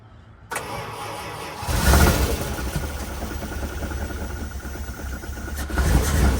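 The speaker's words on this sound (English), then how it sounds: "Alrighty, let's see if this thing will start up." A 1979 Dodge RamCharger that sat unused for over 15 years cranks briefly, then fires and settles into a loud, rough, steady idle, close by with no talk.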